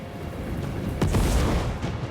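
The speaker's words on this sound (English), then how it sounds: "The cannons rain death." Cannons boom in the Total War: Warhammer 3 battle, a loud deep blast about midway through rolling out over a dense rumble of battlefield noise.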